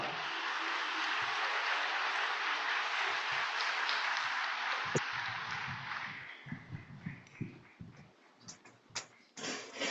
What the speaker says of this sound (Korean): 따뜻한 박수로 맞이해 주시기 바랍니다.